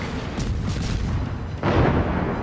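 Torpedo hits exploding against the Missouri battleship in World of Warships, heard as a continuous rumbling battle din that surges into a heavy, loud blast partway through.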